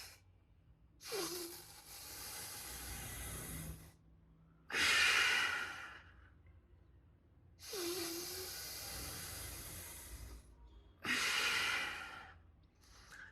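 Bhastrika pranayama yoga breathing: four forceful, loud breaths, long noisy exhalations and inhalations through the nose with short silent gaps between them, close to the microphone.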